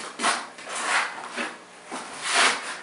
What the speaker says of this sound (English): start with a